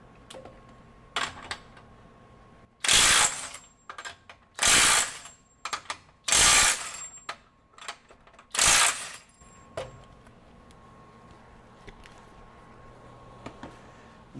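A FLEX FX1451 mid-torque impact wrench, running in reverse on mode 3, breaks lug nuts free in four loud, close hammering bursts of about a second each, separated by short quiet gaps.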